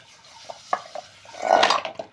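A heavy kadhai wok brought from Saudi Arabia, handled while washing dishes at home: a few light metallic clinks and taps, then a louder scraping clatter of metal near the end, close by.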